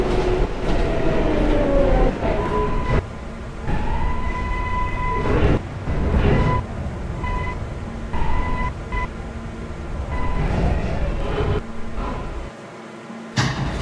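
A subway train running in a Basic subway simulator game, a continuous loud rolling rumble with rising and falling motor whine, track clatter and brief shifts in tone, ending with a short drop before the noise resumes.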